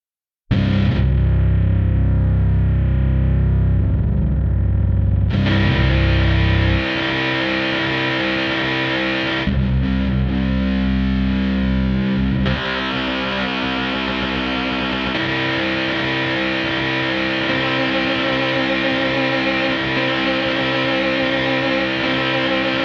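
A heavily distorted guitar, the anger patch from the 8Dio Emotional Guitar library, plays loud, sustained chords and gritty riffs that shift in texture partway through, continuous and alone with no talking.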